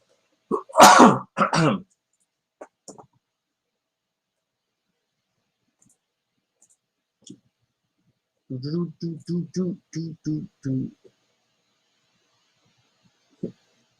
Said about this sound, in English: My elbow cough.